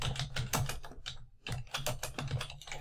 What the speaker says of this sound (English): I'm going to type it in real quick and then come back